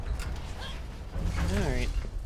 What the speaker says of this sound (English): Oh, there's an elevator here.